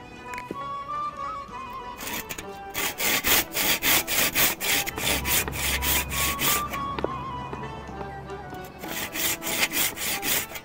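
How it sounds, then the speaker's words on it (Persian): Wood is sawn by hand, starting with quieter strokes that give way to loud, rapid, rhythmic back-and-forth rasping strokes up close, which pause briefly and then resume. "نه طرفی قفوش اره کردیم."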